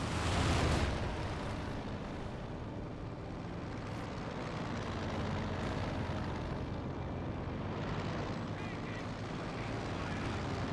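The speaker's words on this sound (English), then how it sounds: "So we do got another airstrike being called on in" Airstrike in Company of Heroes 2 roars as a steady, loud rumble of aircraft engine and explosive noise, with a heavy burst at the very start and a sustained drone throughout.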